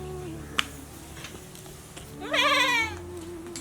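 A goat bleats loudly nearby in a rural home setting, one wavering drawn-out call after quieter household background sounds and a sharp knock.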